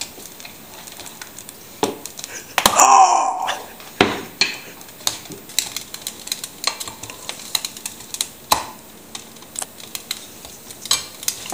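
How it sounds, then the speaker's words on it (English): Pita bread laid into a hot, oiled pan for strapatsada, giving a brief loud sizzle followed by soft crackling and scattered taps of a utensil in a home kitchen. "So, the pan has heat enough. Put the pita in it."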